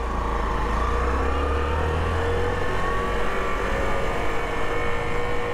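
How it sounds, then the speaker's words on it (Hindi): A 2022 Hero Passion Xtec motorcycle pulls away in first gear, its small engine giving a steady, loud, close drone with a low rumble that holds throughout and shifts only slightly in pitch, with no voices. "यहाँ से मैं इस बाइक को फर्स्ट गियर में डाला है।"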